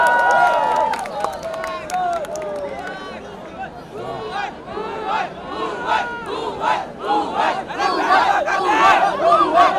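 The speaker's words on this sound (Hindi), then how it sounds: "एक बार जोरदार ताली इन सबके लिए प्लीज" Cheering, shouting crowd at a college fest, dense and loud throughout the clip, with scattered clapping mixed into the roar and voices calling out over it.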